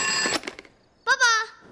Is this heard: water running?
no